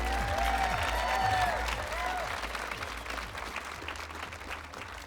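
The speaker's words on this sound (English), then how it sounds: "Let's hear a round of applause for those models and designers." A university apparel design fashion show audience applauds with a steady, dense clapping that fades slightly, while an announcer's voice is faintly heard over it.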